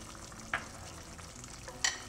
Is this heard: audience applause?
no